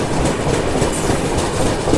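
Guntur Rayagada Express rolls past with a dense, steady rumble and rapid clickety-clack of wheels on track, loud and near throughout, without any voices.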